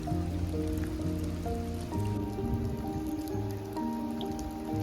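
Rain falling steadily on a walk under an umbrella at a farm park in Kottayam, a constant patter of drops beneath continuous background music.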